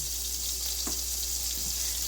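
Macaroni boiling in a pot of water while being stirred, a steady bubbling simmer with a couple of soft scraping stir sounds, close and without talk.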